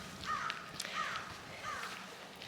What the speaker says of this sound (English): and the crows cawing.